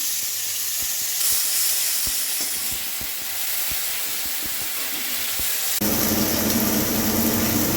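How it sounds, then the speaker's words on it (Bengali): Onion and tomato fry in a pan with a steady hiss, set against repeated light scraping taps from stirring; near the end the sizzle swells louder and denser. "এটা বেশ ভালো করে একটু ভেজে নেব প্রথমে"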